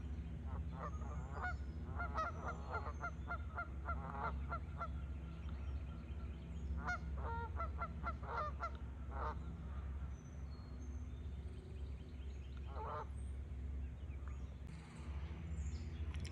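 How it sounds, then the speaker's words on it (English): Canada geese at a lake's edge in the Ozarks, a flock giving repeated overlapping honks that carry steadily over a low background rumble, moderately distant. "See these Canadian geese over here."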